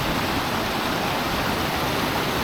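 The Nant Melyn waterfall roars as a dense, unbroken rush of falling water. It stays loud and constant from start to finish, with no voices.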